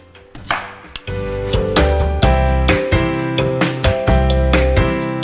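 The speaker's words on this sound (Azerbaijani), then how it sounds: "bunu beləcə iki yerə bölürük bütün kartoflarımızı" A knife chops through potatoes on a board, cutting them in half with a series of sharp, close knocks, roughly a dozen irregular strikes over a bright musical backing and no talk.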